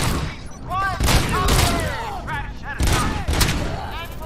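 Rapid volleys of gunfire from RoboCop: Rogue City crackle in repeated bursts, with a voice speaking over the shooting.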